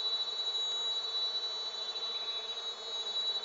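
Uruçu stingless bees (Melipona scutellaris) buzzing at feeders, a continuous, steady, close insect drone with no pauses and no voices.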